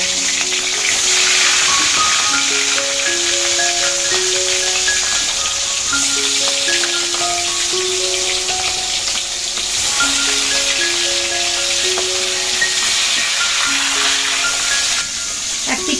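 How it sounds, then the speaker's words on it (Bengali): Pieces of katla fish frying in hot oil, giving a steady, bright sizzle and hiss that runs unbroken throughout, with background music playing over it. "এবার মাছগুলো দিয়ে দিই মাছগুলো ভেজে নেব"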